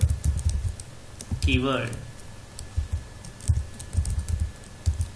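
Typing a project name into a Java development tool on a computer keyboard: quick light key clicks in short bursts, close up, with a voice talking over them.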